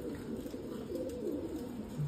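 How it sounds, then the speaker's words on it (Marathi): A pigeon in Nashik gives soft, low, rolling coos close by over quiet background noise. "तर एक नवीन कबूतर आलेलं आहे नाही का अड्डा धरून."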